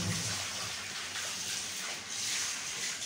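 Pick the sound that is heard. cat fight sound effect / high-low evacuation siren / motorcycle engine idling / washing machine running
washing machine running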